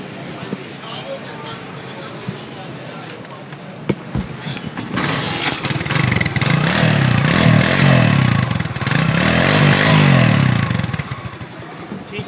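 A 2003 Suzuki SD 110 four-stroke motorcycle engine starts up after a few seconds of quiet and runs steadily with a loud, rough, pulsing idle, close by, until the end.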